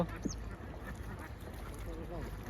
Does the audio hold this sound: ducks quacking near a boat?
yes